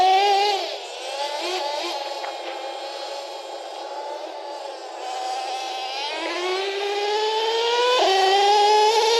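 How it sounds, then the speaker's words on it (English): A nitro RC truck engine revs and whines close up as its clutch releases, with pitch rising and falling in repeated surges and climbing louder toward the end, with no talking. "You can hear the clutch releasing and revving up."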